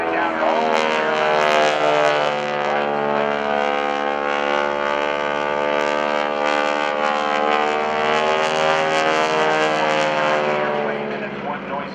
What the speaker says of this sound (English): This is the North American Texan trainer.